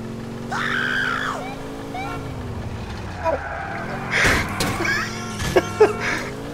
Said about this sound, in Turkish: Oğlum o ne komik çığlıktı lan öyle.